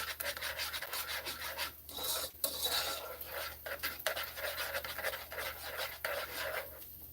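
Spoon stirring food in a frying pan while chicken quesadillas are cooked, a close, irregular scraping and rubbing with short rasping strokes and small clinks, fairly quiet with no talk.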